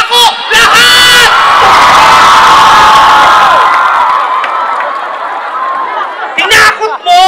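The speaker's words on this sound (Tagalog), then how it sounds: "Bakit mo sila pinapasigaw?" A live-show audience in Bago City roars with loud, sustained cheering and shouting, children's shrill voices prominent, swelling for several seconds before fading into scattered whoops and chatter.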